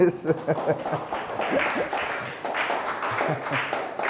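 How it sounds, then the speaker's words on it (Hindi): Applause from a church congregation at a sermon comes in as a speaker's voice fades out, building into a fairly loud and sustained round of clapping. "जोरदार ताली से इसको दामने"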